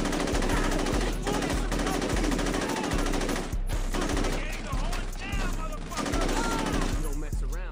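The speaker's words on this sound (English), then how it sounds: "I'll take the Russian assault rifle." Russian assault rifle in the Saints Row video game firing in rapid sustained automatic bursts, loud and close over busy game music and effects, with a voice talking beneath.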